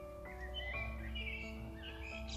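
A bird sings in a small patch of forest, a series of faint, clear whistled and warbling notes over a low, steady background hum, with no talking.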